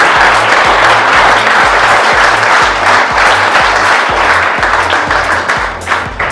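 Audience at a school foundation day celebration clapping loudly and close, a dense continuous wash of hand claps over a steady rhythmic low beat, fading slightly at the end.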